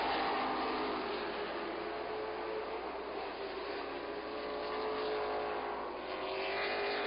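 Sportsman race cars roar steadily around the oval at Virginia Motor Speedway, a dense continuous engine drone from a distant pack with a slight swell as they pass, and no voices on top.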